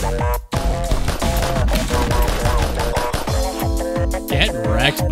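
Rapid bursts of gunfire from the Friday Night Funkin' Impostor mod, loud and dense, rattling in quick machine-gun volleys over driving game music with a brief gap near the start.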